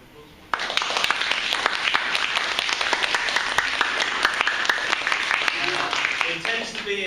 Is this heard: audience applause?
yes